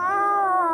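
A loud, close, drawn-out cat-like wail, tense and slightly wavering, fills the whole short moment in a horror story narration; it may be a voice imitating a cat.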